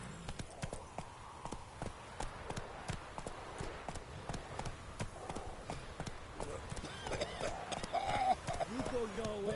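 Roach, the horse, gallops in The Witcher 3: Hearts of Stone with a steady, rapid clip-clop of hooves that runs throughout, mixed with game ambience and occasional voices.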